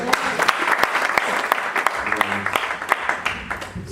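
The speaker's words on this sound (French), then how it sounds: "on peut acclamer la parole" A church congregation applauding the reading of scripture at a French-speaking youth service, steady clapping for about four seconds with a few voices calling out underneath.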